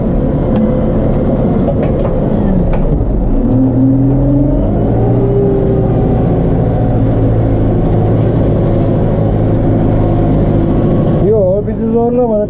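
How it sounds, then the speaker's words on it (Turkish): A Case JX110 tractor engine runs steadily in a wheat field, a loud continuous drone that holds close throughout, while someone talks over it. "Fıstık gibi gidiyor traktör"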